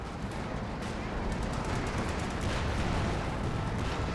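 Dense gunfire and explosive impacts from Company of Heroes 2 as a Panzerfaust strikes a Sherman tank, a continuous loud rumble of shots and blasts with speech faintly in the mix.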